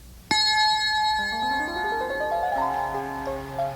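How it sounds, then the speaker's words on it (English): Storybook page-turn chime for a G.I. Joe talking story book, a single bright bell strike followed by a ringing descending-then-rising tonal run that lingers for several seconds, alone and fairly loud. "Don't forget to turn the page every time you hear the chime."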